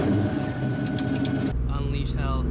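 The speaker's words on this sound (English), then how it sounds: "This is gonna be the last cold start with the MagnaFlow MagnaPack exhaust" A 2004 Ford Mustang GT with a MagnaFlow MagnaPack exhaust rumbles loudly and steadily close by on a cold start, its deep tone shifting partway through.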